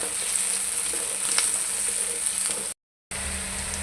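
Kofta balls fry lightly in hot oil with a steady, even sizzle and a few faint stirring clicks, broken by a brief moment of silence before the sizzle resumes.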